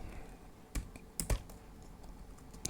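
Someone types code on a computer keyboard in a quiet room, with a few scattered, soft key clicks and a couple of sharper taps, no talking.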